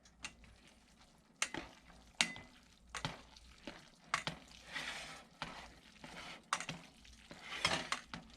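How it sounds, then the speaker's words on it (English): Tongs stir blue cheese pasta in a pan, producing intermittent scraping and clicking strokes with soft wet squelches between them. The sounds are quiet and irregular. "just gonna give it a stir with my tongs"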